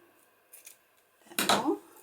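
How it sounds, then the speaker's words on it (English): Scissors snip through sari silk fabric in a single short crisp cut, close and fairly loud after a quiet, faintly rustling lead-in. "So I'm going to cut 2 pieces"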